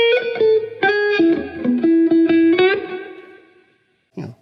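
An electric guitar with distortion and effects plays a melodic motif of sustained, singing notes in a short phrase, loud and close, then rings out into a decay before a brief final pluck.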